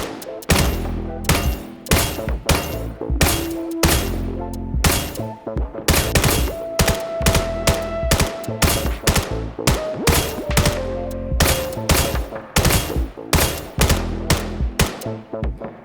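Rifle shots in a VR shooting game, fired one after another in a dense, steady run of sharp loud cracks and thumps with electronic tones sounding between them.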